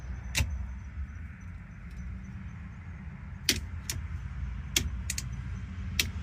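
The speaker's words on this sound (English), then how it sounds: "Now I hear a relay popping." Sharp relay clicks pop intermittently over a low engine-like hum in a car's headlight circuit, a handful of quick snaps spaced irregularly, fairly close.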